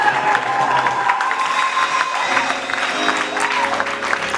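A church congregation applauds and cheers in praise, steady clapping mixed with shouts and voices across the whole stretch, fairly loud and close.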